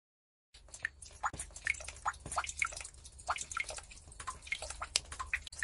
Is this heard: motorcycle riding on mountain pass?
no